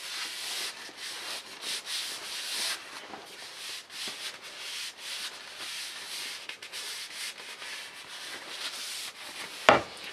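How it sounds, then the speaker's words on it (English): A wooden axe handle is rubbed by hand as a coating is spread along it, making soft, uneven swishing strokes that come and go quietly, ending with one sharp knock. "I'm spreading the coating all over the axe handle"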